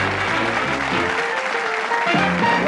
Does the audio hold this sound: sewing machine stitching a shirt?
no